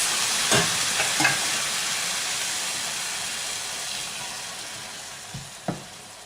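Meat from a strainer stirred in a hot frying pan for kebab, a continuous loud sizzle and hiss with a few sharp scrapes of the utensil against the pan.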